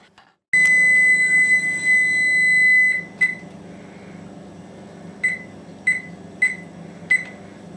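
A kitchen oven timer sounds after bacon bakes for 15 minutes: one long steady tone held for a couple of seconds, then several short separate beeps, close and clear over a low appliance hum.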